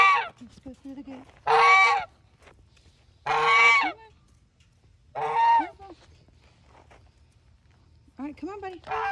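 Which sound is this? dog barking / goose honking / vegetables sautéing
goose honking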